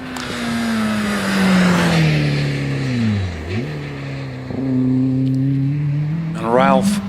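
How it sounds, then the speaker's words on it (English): A yellow Peugeot 205 GTI races at a hillclimb, its engine note rising and falling through gear changes and braking, loud and close, with a sharp revving burst near the end and a voice talking over it. "Coming into Farmhouse at the moment, that looks like Ralph Pinder in the yellow Perro, the Peugeot 205 GTI."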